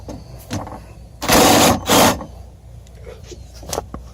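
A ratchet with a 10mm swivel and extension loosens a bolt during a Chevy Colorado rear window motor and regulator install: two loud, close rasping bursts of rapid clicking, with quieter handling noises around them.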